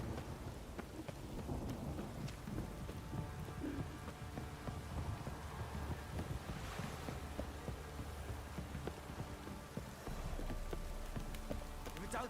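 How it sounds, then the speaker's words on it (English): Rain falls steadily in The Witcher 3 video game, a constant hiss with low rumbling thunder underneath, running throughout with a character's voice briefly heard over it. "If it don't stop raining, my arse will rot off."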